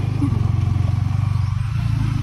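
A Kawasaki KLX motorcycle engine idling close by, a steady low, throbbing putter with a fast, even pulse and no revving, over a brief stretch.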